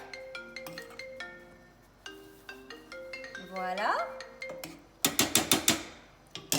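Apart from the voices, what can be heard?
mobile phone ringing during recording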